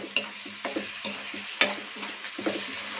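Fish masala and onion paste fry in a pan for a sea fish curry, with a spoon scraping and stirring in several distinct strokes over a soft, steady sizzle.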